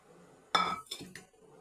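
Boiled chickpeas and lentils are tipped into a cooking pot, giving one sharp metallic clatter followed by two smaller clinks, close and brief against a quiet kitchen.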